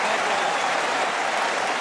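A tennis crowd claps for Roger Federer, dense and steady applause filling the whole moment at full volume with no voices over it.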